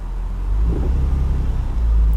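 A car engine revs under load in drive with the brake held, during a test of a suspected bad MAF sensor; a steady, loud low rumble rises and holds for about two seconds.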